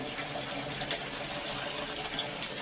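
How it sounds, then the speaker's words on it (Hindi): Water gushes steadily from a tap into a bucket being filled for washing dishes, a constant loud splashing rush from start to finish. "पानी चालू किया मैंने आके,"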